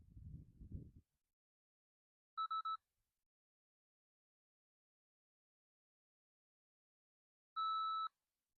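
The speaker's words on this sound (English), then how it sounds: "the beeping that you can hear is the interval timer" Two short electronic beeps from a watch interval timer, each a quick cluster of tones, spaced several seconds apart against silence after a brief low rumble at the start.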